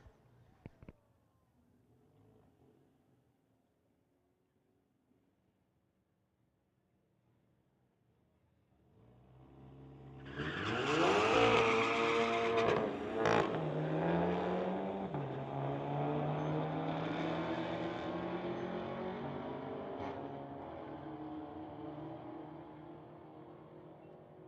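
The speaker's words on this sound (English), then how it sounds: "Volkswagen versus Camaro." A Volkswagen and a Camaro launch in a street-legal drag race at the strip. Distant quiet turns into a loud engine roar that builds at launch and holds as the cars run, with faint talk early on.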